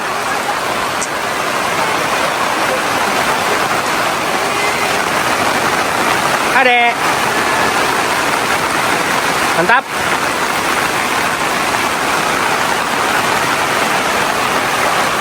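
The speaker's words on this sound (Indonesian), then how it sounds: "Hujan lumayan cukup deras ya." Heavy rain falls steadily over a campground in Bogor with a gravel split-stone surface, a loud continuous patter and hiss, while people say a few brief words partway through.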